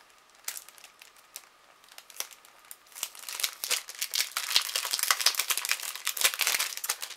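A cellophane packet of paper flowers being opened, sparse crinkles at first, then dense, loud crackling and rustling of thin plastic close by.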